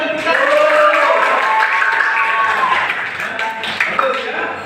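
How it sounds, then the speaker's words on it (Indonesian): A classroom audience claps in a steady burst while a voice carries over the top, the applause loud and close and gradually thinning toward the end. "berikan tepukan"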